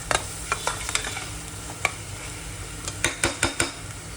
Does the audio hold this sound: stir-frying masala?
yes